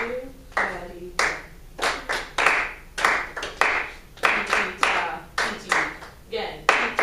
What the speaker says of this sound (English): let's clap that whole thing together